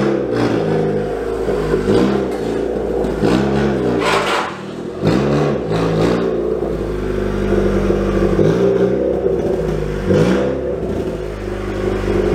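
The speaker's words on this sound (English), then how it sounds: "Let me pull it in here so I can show you guys, because it's easier pulling it in Ronnie's bay than my bay." Honda Prelude being driven into a garage bay, engine rumbling at low speed with a few gentle revs and rises in pitch, close by and fairly loud throughout.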